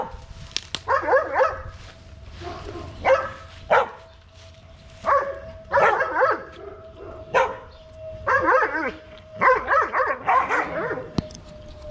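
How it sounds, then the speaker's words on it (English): Puppies bark, yip and whimper in irregular bursts, fairly close and moderately loud, with short quiet gaps between the calls. "Those are YouTube puppies."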